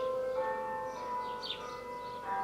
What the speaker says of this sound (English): Lovely little church bells.